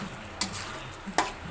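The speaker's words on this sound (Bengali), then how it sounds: "আলুগুলো দিয়ে ভালো করে কষিয়ে নিলাম।" Potatoes stirred and fried in a spice masala give a low, soft sizzle broken by two sharp scrapes of a spoon against the pan, close and alone with no talk.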